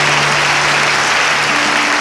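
A church congregation at an evening baptism service in Côte d'Ivoire claps in loud, dense, continuous applause that fills the whole moment without a break.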